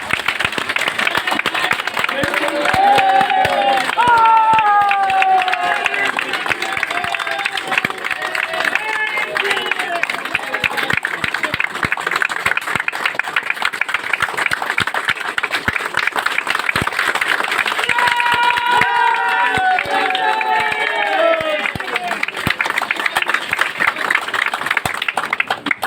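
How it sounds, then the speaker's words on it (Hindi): An audience at a corporate event for Sameday Infratech Limited applauds steadily and loudly for nearly half a minute, with dense clapping and scattered cheers while a voice speaks over it at times. "जोरदार तालियों के साथ हम उनका स्वागत करेंगे और खड़े होकर जोरदार हाथों के साथ"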